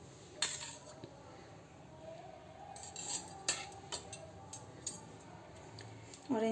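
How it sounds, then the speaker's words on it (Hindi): A spoon scoops curd into semolina while making a simple home recipe, giving light metallic clinks and scrapes against a bowl over a steady background. "तो हम 2-3 चम्मच मात्र रखबै दही"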